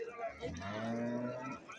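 Cattle low and moo at a busy livestock market held for a festival, a single drawn-out call rising and fading, moderately near and on its own without talk.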